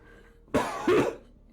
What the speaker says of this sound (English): as evidenced by my cough